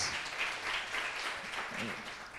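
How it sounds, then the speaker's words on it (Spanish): Applause fills a church service hall, a steady wash of many hands clapping at moderate distance, with voices faintly underneath. "¿Qué tal si damos un aplauso a Dios por nuestros kids?"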